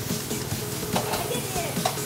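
Ginger sizzles steadily in a hot stir-fry pan, a continuous crackling hiss with light stirring scrapes, while a child and an adult talk nearby.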